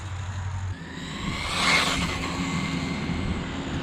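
A new RC car driving at speed on a road gives a steady buzzing motor whine with broad wheel and surface noise. It swells slightly as it passes near, then holds at a constant level.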